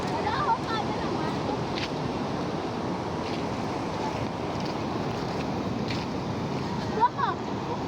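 Sea waves wash onto a beach in a steady, soft surf hiss with wind across the microphone, while people talk faintly in the background.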